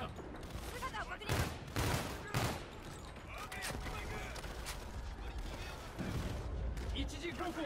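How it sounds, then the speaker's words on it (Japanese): Gunfire pouring down from above during a Call of Duty: Infinite Warfare campaign firefight, with sharp loud bursts of shots early on, then steady rattling fire and mechanical clatter, and someone talking over the action. "上からも撃たれているぞ"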